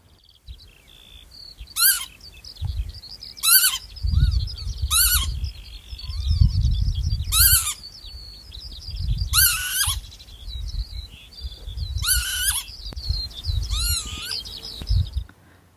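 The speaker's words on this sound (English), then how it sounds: "Their most recognisable call, the pee-wit, can be heard at the end of this recording" Lapwings call repeatedly outdoors, each call a sharp rising and falling cry, with the distinctive pee-wit call near the end, over low rumbling wind noise.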